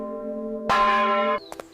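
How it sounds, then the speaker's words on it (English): A single church bell strike rings out loud and bright, sustaining for under a second over a steady low hum, followed by a couple of faint clicks. "On June 24, 1666, the church bell rang."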